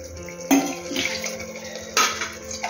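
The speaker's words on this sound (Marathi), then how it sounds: "आपण त्यात गरम पाणी टाकू." Hot water poured into a metal pot coated with spices from cooking mutton, in two short splashing bursts, with clinks of cookware between them.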